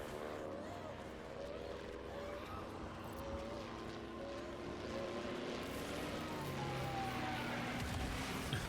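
A propeller airplane in the video game Death Stranding gives off a steady, droning engine hum with wavering tones. It runs continuously over a dense, busy game soundscape with faint voices mixed underneath.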